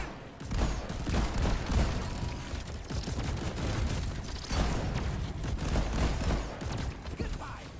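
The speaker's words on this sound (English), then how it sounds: "The caretaker's launching turret." Caretaker's launching turrets in Deep Rock Galactic fire in dense, continuous volleys of rapid gunfire mixed with booming impacts, loud throughout and layered over busy game noise.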